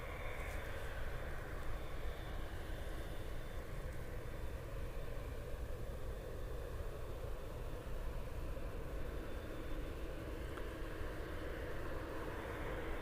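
A United Boeing 787 Dreamliner jet departs Munich Airport for Denver, its engines a steady, broad roar that holds constant and fairly distant throughout, with no voices.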